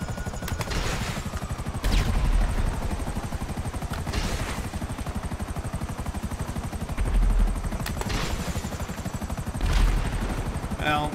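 Gunfire in GTA 5 Online, a dense rattle of rapid shots with a few heavier blasts over a constant rotor-like drone, loud and close throughout.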